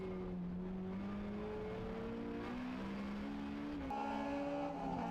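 Racing cars lapping the Rockingham circuit, engines holding steady harmonic notes that shift pitch as they change gear, rising near the end; continuous close motor roar with no talk.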